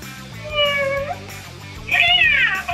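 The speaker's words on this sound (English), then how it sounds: "The last sound we're going to make is a cat sound" Two drawn-out cat meows from the video game Wonder League, the second higher and louder, sounding over a low repeating musical backing with no talking.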